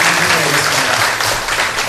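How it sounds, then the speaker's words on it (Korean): A church congregation claps in welcome, a loud, close, unbroken roar of applause filling the whole moment without any voice over it. "박수로 환영합니다"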